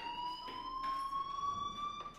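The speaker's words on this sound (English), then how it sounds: "do you hear that fire alarm? That means you should be outside." A fire alarm rings at the school in the Life is Strange video game: a continuous, slightly rising electronic tone with faint pulsing, heard at moderate level with no talk over it.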